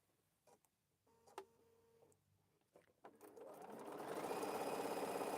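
Sewing machine stitching quilt fabric, starting with a few faint clicks and short mechanical taps, then running into a fast, steady whirring buzz that grows louder and continues to the end.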